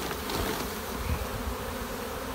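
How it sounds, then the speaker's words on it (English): Honey bees buzzing on a hive frame, a steady dense hum close by, moderately quiet and unbroken, with no talking. "a lot of the bees will fly out"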